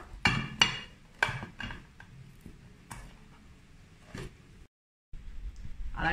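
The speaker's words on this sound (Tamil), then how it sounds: "chocolate chips banana cake ready ஆகிடுச்சி நாம் இப்போ கட் பண்ணுவோம்" A knife cuts into a homemade banana chocolate chip cake, giving several sharp knocks and scrapes against the plate or board, clustered and close, with a brief silent gap near the end.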